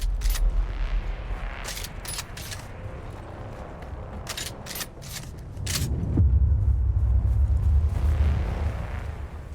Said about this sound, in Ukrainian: Де це чому ж тут щось стріляло?